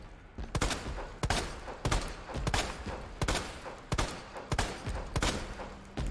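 Gunshots in the Resident Evil 2 remake, roughly a dozen sharp handgun reports fired in a fairly regular rhythm, loud and close with short echoing tails and no talk.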